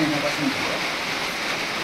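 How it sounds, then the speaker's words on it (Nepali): Soft, steady rush of light rain falling outdoors, a continuous wash of noise with faint voices murmuring at the start. "बिहानै पानी चाहिँ एकदम राम्रोसँग परेको थियो अनि अहिले चाहिँ अलिअलि कम भएको छ"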